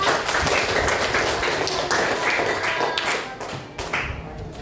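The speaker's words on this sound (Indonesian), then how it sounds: "beri aplaus buat kelompok 4" A student group in a classroom gets applause, dense overlapping clapping that stays loud and steady throughout, close by with a murmur of voices mixed in.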